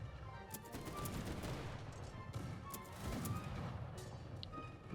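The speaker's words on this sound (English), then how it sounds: "The guns here almost sounded like Gatling guns" Rapid, continuous gunfire like Gatling guns in a Boshin War strategy video game, a dense rattling volley that runs the whole time with a few sharper cracks standing out.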